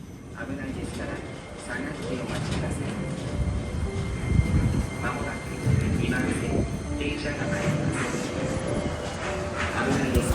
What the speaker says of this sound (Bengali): এই যে এখন ট্রেন চলে এসছে, আমরা এখন ট্রেনে উঠে পড়বো